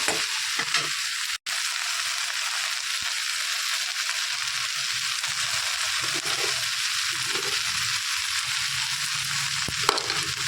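Okra bhaji stir-frying in a pan over slow-medium heat gives a steady, close hiss of sizzling oil throughout, with faint scraping of a spatula and one brief dropout.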